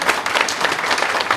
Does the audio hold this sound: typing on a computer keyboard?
no